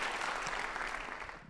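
An audience at a spiritual talk by speaker Madhan Gupta applauds, a dense, steady round of clapping from a crowd that fades out toward the end.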